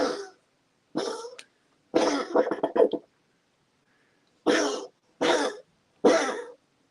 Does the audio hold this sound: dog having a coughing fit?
yes